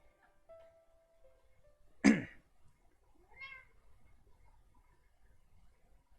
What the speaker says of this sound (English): He's been meowing for like the past like 5 minutes